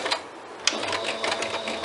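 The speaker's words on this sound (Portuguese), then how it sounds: "E aí nós vamos costurar." A sewing machine stitches a bag through thick folded seams in a short, fast mechanical burst. The rapid needle chatter is close and fairly quiet, with a small knock partway through.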